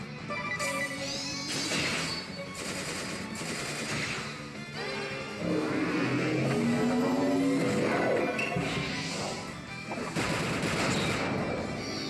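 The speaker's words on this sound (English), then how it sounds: "We're going to go for a Radiant Blast." Radiant Blast attack effect in the role-playing game Bravely Default, a layered run of loud crashing impacts and shimmering magical bursts with game music beneath, dense and continuous for several seconds.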